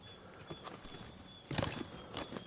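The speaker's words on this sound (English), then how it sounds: "Get back on the horse, Connor." Horse hooves clip-clop steadily in Assassin's Creed 3, with a quiet rhythmic gait that grows louder for a moment partway through.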